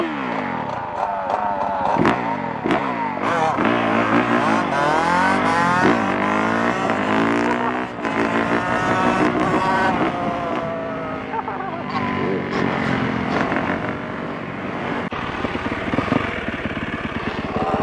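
Quad ATVs race each other at a compound, engines whining and revving hard with rising and falling pitch as they accelerate and pass, loud and continuous throughout.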